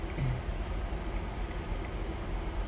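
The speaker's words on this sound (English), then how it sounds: "and here comes the train" A low, steady rumble of a train rolling past, broadband and continuous, fairly loud with no voices.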